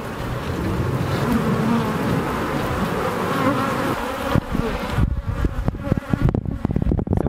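Honey bees buzz loudly and steadily at a backyard beehive, a dense close drone that fills the air, then turns more broken toward the end with scattered knocks and rustles.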